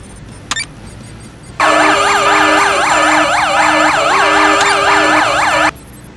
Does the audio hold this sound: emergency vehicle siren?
yes